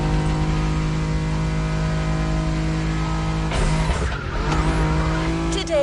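BMW M5 Drift Edition drifting in The Crew Motorfest racing game, a steady engine drone with a burst of tire squeal and skidding near the end, loud and continuous.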